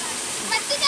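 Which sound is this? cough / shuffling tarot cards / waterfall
waterfall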